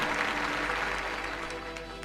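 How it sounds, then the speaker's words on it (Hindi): Congregational applause during a morning prayer service at a church, a dense steady wash of many hands clapping throughout, with a faint low hum underneath and no voices. "ज़ोरदार तालियों के साथ इस गवाही के लिए परमेश्वर का धन्यवाद करें"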